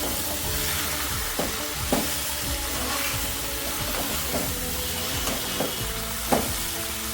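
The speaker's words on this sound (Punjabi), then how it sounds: "ਪਾਵਾਂਗੇ ਅਸੀਂ ਇਹਦੇ ਵਿੱਚ ਖੂਬ ਸਾਰਾ ਧਨੀਆ ਮਿਕਸ ਕਰ ਦੇਵਾਂਗੇ" Cabbage sabji with garam masala and coriander sizzles loudly in a hot pan, with continuous frying hiss broken by repeated scraping stirs close up.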